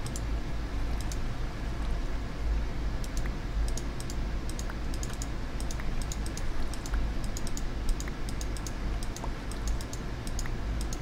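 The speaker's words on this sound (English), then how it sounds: "I'm clicking on this very deliberately, because I think if you click and hold" Rapid computer mouse and keyboard clicking during a Minecraft-style survival game, a continuous run of light, crisp clicks over a steady low hum, close and even in level with no talk.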